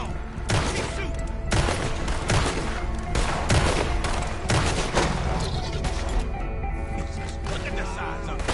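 Dense gunfire fills a firefight in the video game Red Dead Redemption 2, with repeated loud shots and booms close by and people shouting under the barrage.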